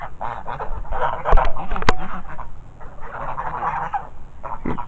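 Free-range Narragansett and blue slate turkeys calling outdoors: repeated nasal honking and gobbling calls overlapping in a busy chorus, close and fairly loud, with a sharp click partway through.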